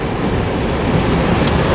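Heavy rain falls in Ortigas in a dense, constant roaring wash, loud and close, with no voices.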